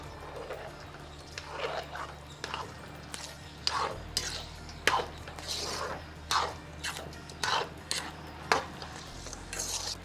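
Repeated scraping strokes of a ladle mixing rava kichadi in a pan, a series of soft rhythmic scrapes and clinks up close over a low steady background hum.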